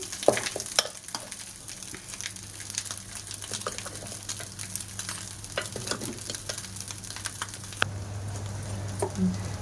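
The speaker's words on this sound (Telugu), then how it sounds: "కొంచెం ఫ్లేమ్ చిన్నది చేసుకొని రైస్ వేసుకోండి" Cooked rice goes into a pan on a low flame for homemade egg and chicken fried rice, bringing a soft continuous sizzle with irregular close scrapes and taps of a spoon stirring, over a low steady hum.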